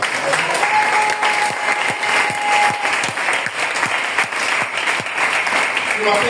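A church congregation breaks into sustained applause, dense rhythmic clapping with crowd noise filling the space, a few louder claps standing out and voices mixed in underneath.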